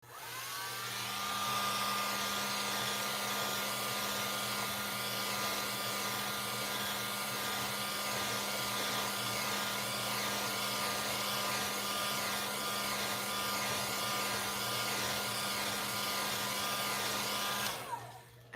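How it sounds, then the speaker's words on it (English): A hair dryer blows steadily at close range to dry a watercolor painting, a continuous loud whirring hum with a faint tonal whine that holds for about seventeen seconds before switching off at the end. "I'm just gonna use the hairdryer just in case because we don't want everything to smear"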